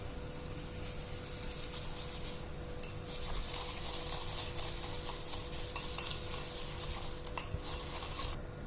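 Cheesecake mixture is whisked in a bowl, a steady scraping, swishing rhythm of a whisk against the bowl that pauses briefly a couple of times, close and fairly quiet.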